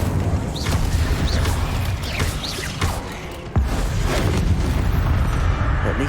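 An Incendio fire spell goes off in Hogwarts Legacy, giving a continuous roaring, crackling blast with a sharp, sudden boom partway through, loud and close with no talking.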